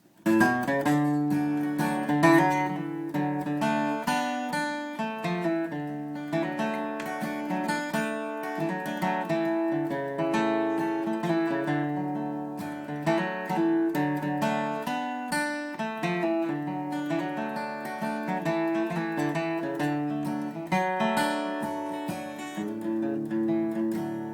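A banjo plays a lively solo of 'Cora Is Gone' using rest strokes, full, ringing plucked notes in a continuous flowing run, clear and close with no voices.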